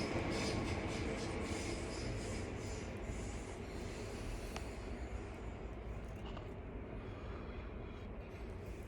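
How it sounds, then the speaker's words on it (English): A train rolls past nearby with a continuous rumbling, rubbing wheel noise and occasional brief squeals, loud at the start and slowly easing off, with no talking. "let me let the train go past, because I want to be as clear as possible"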